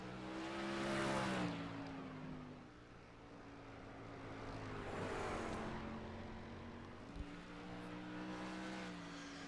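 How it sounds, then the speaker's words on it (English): Race cars run laps in the iRacing sim, Silver Crown series, during qualifying: engine roar swells and fades as cars pass, with steady sustained engine tones rising and falling over about ten seconds. "Getting ready for cars to get out on the racetrack for qualifications"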